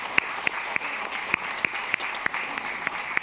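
An audience at a provincial election debate claps in a steady rhythmic beat, about three claps a second landing in unison, fairly loud with no talking.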